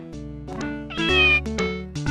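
A cartoonish cat meow from the SimAnt SNES video game, in a garden scene, sounding twice with bright tonal calls over steady game music, with no talking.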